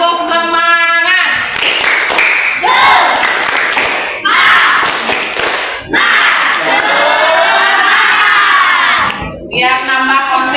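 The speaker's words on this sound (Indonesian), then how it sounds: "Tepuk semangat." Schoolchildren in a classroom shout a loud rhythmic clapping chant in unison, energetic bursts of voices and claps separated by brief pauses, close and very loud.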